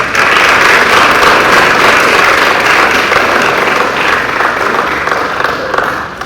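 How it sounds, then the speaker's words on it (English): Sustained applause from a large audience at a military school awards ceremony honoring course students, a steady dense wash of clapping that fills the whole stretch, with faint murmuring underneath. "Let's give them a big round of applause"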